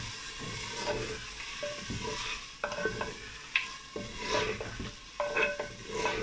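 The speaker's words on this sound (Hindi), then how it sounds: "तेज़ हीट पे मैं इसको पका रही हूँ।" Radish and chicken curry (mooli gosht) cooks over high heat with loud, close sizzling and repeated scraping and stirring strokes of a spoon against the pan, with no voices.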